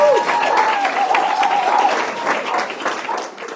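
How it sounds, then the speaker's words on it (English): Applause rises from the audience at a Veterans Day ceremony at Malibu City Hall, a steady mass of clapping with a brief voice carrying over it early on, gradually easing toward the close. "Round of applause."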